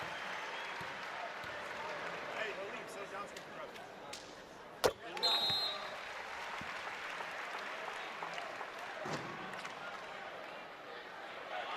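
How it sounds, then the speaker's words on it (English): Steady crowd applause fills a college basketball arena at Michigan State, a broad wash of clapping with a sharp bang partway through. "Jackson leads the game and gets a nice round of applause from the faithful"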